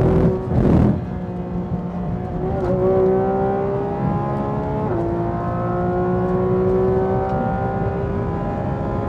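An IndyCar engine howls on track at The Thermal Club, its pitch climbing and shifting through gears in a steady, loud drone heard up close with no talk.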